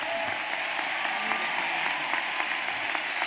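A commencement audience at the University of Tulsa applauds steadily to welcome Alfre Woodard, a dense, even clapping that fills the hall without pause.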